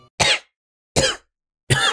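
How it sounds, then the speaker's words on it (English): Three separate coughs, evenly spaced, close and fairly loud with silence between them. "Then Mario and Luigi cough in each other's faces."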